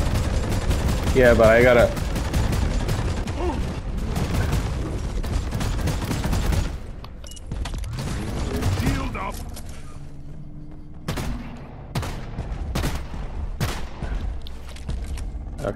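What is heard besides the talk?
gunfire in the video game Deep Rock Galactic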